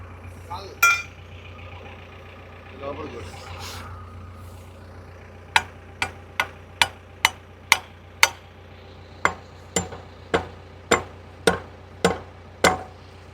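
A small hammer strikes a stuck bolt during a JCB repair, a run of about a dozen sharp metallic taps at a steady rhythm, following a few scattered knocks, over a low engine hum.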